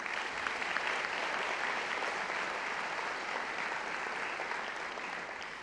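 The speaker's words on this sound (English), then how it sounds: "So let's give everyone a big round of applause." A large audience at a school awards evening applauds, a dense, continuous wash of clapping that holds steady throughout and fades slightly toward the end, with no talk.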